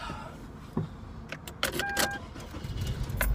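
Car traffic moving on a road at a steady creep, heard from inside a car: a close engine hum with a few brief bumps and clicks and a thin high whine, with no talking.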